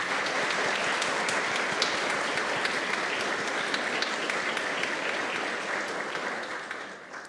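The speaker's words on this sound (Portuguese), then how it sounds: "as mães, a nossa salva de palmas" Church congregation clapping during a Mass for the Ascension, a steady, full round of applause filling the space before tapering off at the end.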